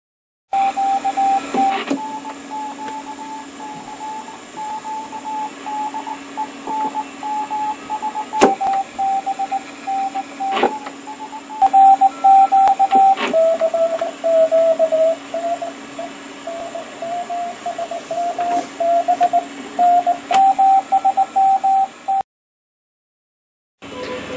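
An R1155 radio receiver tuned to the 20 meter amateur band hisses with steady static, faint carrier whistles and drifting tones, broken by sharp clicks and crackles, then cuts out abruptly near the end before returning.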